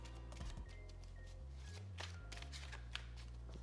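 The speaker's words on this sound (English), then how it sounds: "One more shuffle." Oracle cards are shuffled by hand in a quiet room, a run of soft papery riffles and slaps in short bursts, close and faint.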